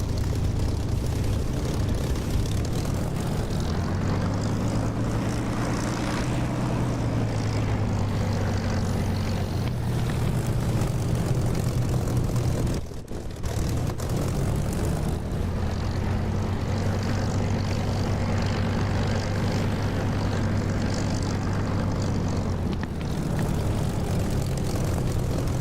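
A propeller aircraft engine at about 2,700 RPM in the DCS flight simulator drones loudly and continuously, a dense steady roar with a slowly shifting tone and a brief dip in the middle.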